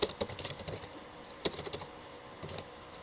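Keys tapped on a computer keyboard while an HTML web page is being coded, giving quiet, irregular clicks in short bursts with a few firmer strokes and pauses between them.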